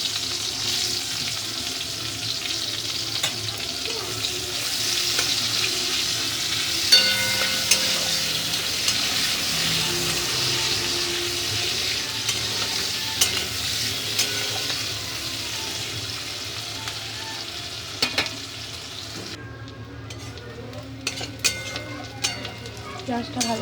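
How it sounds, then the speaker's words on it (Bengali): Chopped onions with whole garam masala and bay leaf fry in the oil left from prawns, giving a steady close sizzle and hiss with occasional spoon scrapes and a voice now and then. "পেঁয়াজটা ভাজা ভাজা হয়ে গেছে।"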